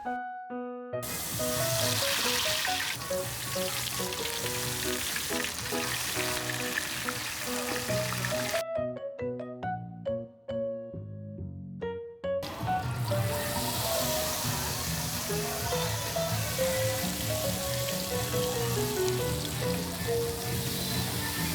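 Butterfly squid deep-frying in hot oil at a street food stall, a steady loud sizzle and bubbling that runs almost throughout, with a short quieter break before the frying noise swells again.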